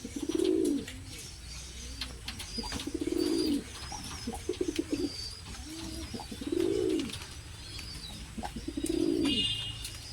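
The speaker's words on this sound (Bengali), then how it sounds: "পায়রার গরম ডাকটা আমি আপনাদের কাছে দেখিয়ে দেবো" Domestic pigeons, lalsira, naphta, phulsira and kalsira types, coo in repeated low rounded calls spaced a couple of seconds apart, close and clear over faint background chirps and noise.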